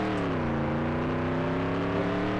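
A harsh, buzzing engine drone from a NASCAR 98 race car at Watkins Glen, blown on pit road, holds a steady rough tone with a slight pitch rise, loud and close throughout with no talk.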